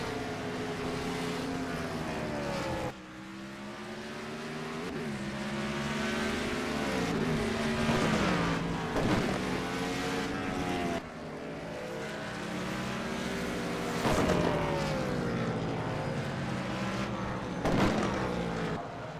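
Race cars at Mid-Ohio roar past in a steady, loud engine drone with rising and falling pitch sweeps as cars pass and shift, continuous throughout with no talk.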